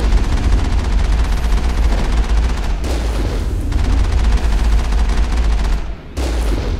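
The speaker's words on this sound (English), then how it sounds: "normal machine gun is not doing anything to this thing" Machine gun fire in Mass Effect, a loud, dense, continuous automatic burst of rapid shots, broken by a couple of brief pauses before firing resumes.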